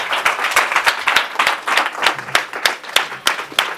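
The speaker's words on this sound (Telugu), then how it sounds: "just give big claps to Jesus" A church congregation claps in quick, steady rhythm during a Sunday sermon. The sharp hand claps are close and loud and carry on without a break.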